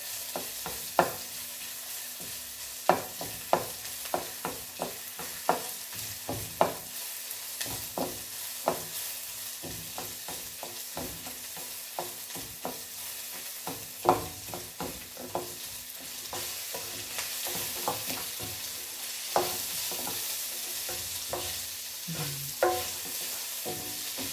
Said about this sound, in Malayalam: വറ്റൽമുളക് മുറിച്ചിട്ട് ഞാൻ ആ സവാളയൊക്കെ അങ്ങോട്ട് മാറ്റിയിട്ട് ആ എണ്ണയ്ക്കകത്തോട്ട് അങ്ങോട്ടിട്ട്